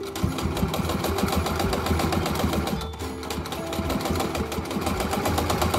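A beginner sewing machine stitches a fabric DIY face mask, its needle running in a fast, steady, close-up mechanical chatter with one brief pause midway and no talking.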